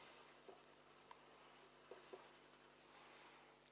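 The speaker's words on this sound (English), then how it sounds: "If I now want to burnish this with colourless pencil, which is oil based, I can then use one of these." Soft, steady scratching of an oil-based colourless blender pencil burnishing over coloured pencil on paper, quiet and close, with a few faint taps and a sharper rub at the end.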